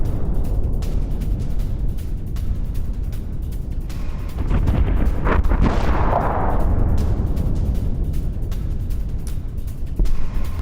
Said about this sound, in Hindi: हमलों के बाद सुनाई दी दूर दूर तक धमाकों की गूंज